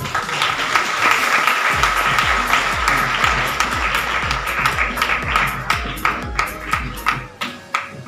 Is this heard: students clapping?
yes